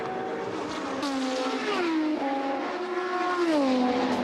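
Pescarolo and Lola Judd sports prototypes race at Silverstone in the 2009 Le Mans Series 1000 km, engines howling loud and close with rising and falling pitch as they shift gears and chase each other.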